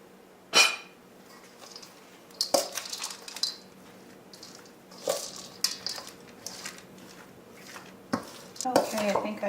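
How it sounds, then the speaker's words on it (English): Spoon mixing broccoli salad with a creamy cashew mayo dressing in a bowl, giving irregular scraping clinks against the bowl and soft wet stirring, moderately loud with scattered sharper knocks. "Now I'm just going to grab my spoon and give this a good mix."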